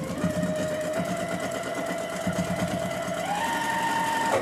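A sewing machine runs a decorative stitch near the edge of a fabric peacock wreath attachment, giving a steady, close mechanical whir with rapid needle chatter and a slight rise in pitch near the end.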